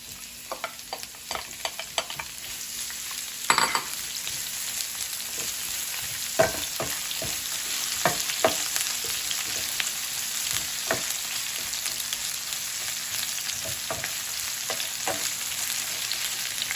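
Onions and cabbage frying in a pan on a stove over medium heat, giving a steady sizzle broken by frequent scraping and stirring clicks from a utensil throughout, with no talk.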